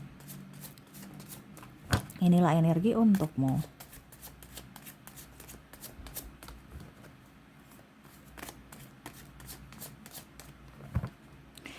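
A deck of tarot cards is shuffled in a short, dense riffle of crisp flicks, close and clear, while someone speaks softly before and after.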